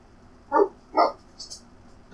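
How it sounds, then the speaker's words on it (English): A dog barks in the video game Fallout: Brotherhood of Steel, with two short, close barks followed by a fainter yip and the start of another bark. "Dog's barking."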